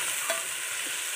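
Curry leaves sautéed in a pan, a brief soft sizzle with a light stirring scrape, quiet and close, no voices.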